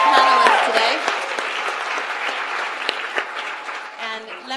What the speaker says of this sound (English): Please, a round of applause to our wonderful panelists today.